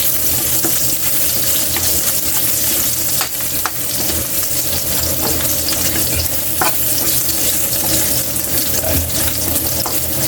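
Ginger and other aromatics sautéing in hot oil in a pan for tuna adobo, with a steady sizzle and frequent stirring and scraping clinks throughout, continuous and close.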